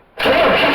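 A 1964 Pontiac Tempest engine catches after a silent moment and roars to life, then holds a loud, steady running note close by.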